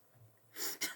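A quiet sneeze with a soft breathy intake followed by a sharp burst, heard close and alone in an otherwise quiet room.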